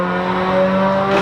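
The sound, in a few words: 1997 Honda Civic Type R engine roaring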